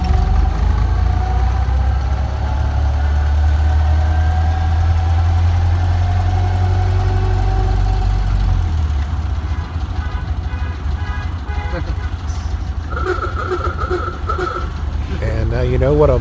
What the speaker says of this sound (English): And now you know what a Model A car alarm would sound like.